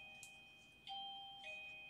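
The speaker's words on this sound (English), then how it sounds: "Who's ringing the doorbell at this time of night?" A faint electronic doorbell chime rings at night, two soft tones sounding one after the other, far off and quiet with no talking.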